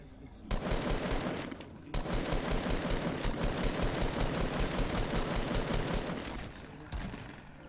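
Rapid, dense bursts of gunfire from a Fortnite battle, read as shotgun blasts. The shots crowd together in near-continuous volleys with brief gaps, loud and close.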